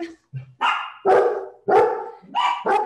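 A dog barks five or six times up close and loud, sharp full barks with a short whimper before the first.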